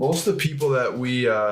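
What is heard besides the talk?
No distinct noise like a dog, phone or traffic.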